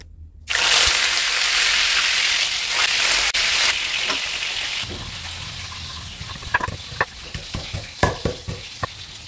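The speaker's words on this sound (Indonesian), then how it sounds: "Saya akan goreng ikannya dulu ya." Fish, tuna for balado, drops into hot oil and bursts into a loud, dense sizzle that gradually settles, followed by a series of sharp crackles and spattering pops.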